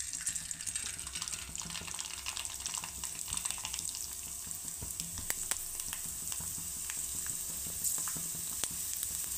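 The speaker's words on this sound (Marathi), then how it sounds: "अजून मी 2 चकल्या तळून दाखवते तुम्हाला।" Sabudana and potato fasting chakli frying in hot oil, a steady, close sizzle with fine crackling that runs the whole time with no voices.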